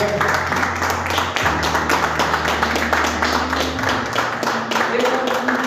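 A church congregation claps along during a worship service, regular rhythmic hand claps over a sustained low organ or keyboard drone that shifts pitch, with voices singing or speaking in the mix.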